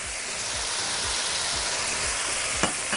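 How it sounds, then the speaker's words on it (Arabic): Onion and garlic sauté in a hot pan for chicken couscous, a dense, loud, continuous sizzle close up with a faint stir near the end. "ونشوحهم بقى لغايه ما كلهم ياخدوا من لون وشكل بعض"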